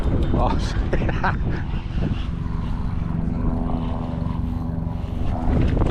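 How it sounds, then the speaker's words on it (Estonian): A helicopter flies over a fishing spot on open water, its steady engine and rotor drone loud and continuous throughout, with people talking over it. "Helikopter."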